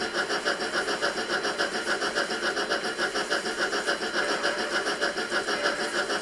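An N gauge Graham Farish LNER apple green Flying Scotsman model locomotive runs at about two-thirds power, giving a steady buzzing motor whine with a fast, even pulsing rhythm and no talk over it.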